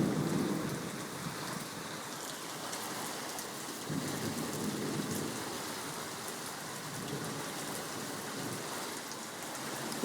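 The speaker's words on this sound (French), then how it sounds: "Mais il pleut. En tabarouette." Heavy rain falls without a break during a thunderstorm, and low rumbles of thunder roll in now and then beneath the dense hiss. No one speaks.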